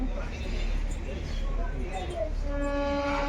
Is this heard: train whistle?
yes